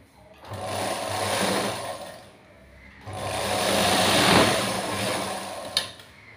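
A sewing machine stitching a joined seam on a blouse top at a tailoring class, running in two loud bursts of steady motor whir with a short pause between them and a sharp click near the end.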